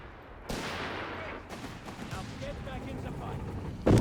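Mines exploding in Company of Heroes 3 on a battlefield: a sudden loud blast at half a second, a rumbling spread of follow-up bursts and gunfire, then another sharp close blast at the end.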